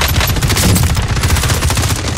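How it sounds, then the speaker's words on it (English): Sustained, rapid automatic gunfire from a Call of Duty Warzone match on Rebirth Island, loud and close, with overlapping bursts filling the whole stretch and no talk over it. "Taking shots here."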